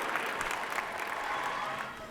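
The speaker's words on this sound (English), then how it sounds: "Can we give that back pedal a round of applause?" A seminar audience gives a brief round of applause, a dense, even wash of clapping that holds steady for about two seconds at moderate volume.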